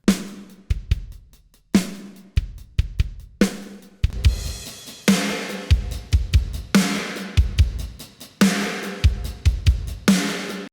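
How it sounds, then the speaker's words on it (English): Hard-hitting snare drum strikes in a driving beat, punchy and loud with a bright crack and ringing tail, heavily processed and played alone. "how to mix a super beefy, heavy-hitting snare drum"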